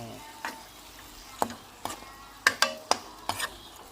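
Chilies dry-roasting in a pan for a pickled bamboo shoot curry, stirred with a series of sharp scraping clicks and taps against the pan over a faint sizzle, close and fairly quiet, with no voices.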